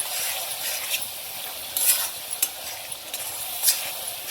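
Biryani masala sautéing in a pan for veg biryani, with a steady sizzle under repeated scraping stirs and a few sharper clinks of a spoon against the pan.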